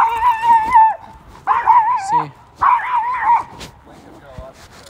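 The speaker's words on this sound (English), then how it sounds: "you can't get him to freaking stop barking" A dog named Lincoln barking indoors, three loud close bursts of yapping barks with whining tones between them, followed by a quieter whimper.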